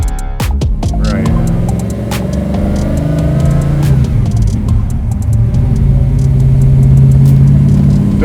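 A big-block 1967 Chevy Chevelle restomod street cruiser pulls away and accelerates, its loud, close V8 rumble building and swelling steadily, with some brief clatter near the start.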